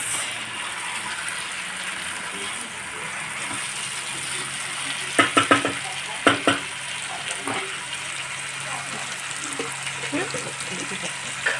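Chicken pieces frying in a pan for a homestyle chicken curry, giving a steady sizzle with a few sharp clatters from a spoon or lid near the middle, and faint voices in the background.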